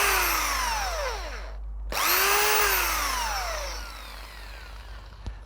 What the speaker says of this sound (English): Now this is always difficult when you drill into wet wood,